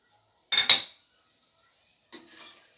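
Bay leaves, dried chillies and whole spices being stirred in oil in a pan: a quick pair of metallic utensil clinks, then a softer scraping after a pause.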